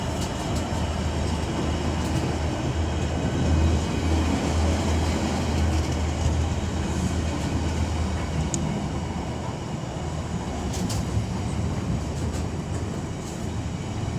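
A passenger train running from Liverpool Lime Street to London Euston, around 21 minutes late, passes at Nuneaton on the West Coast Main Line: a steady, loud rumble and rush of wheels on rail that holds throughout with no talk.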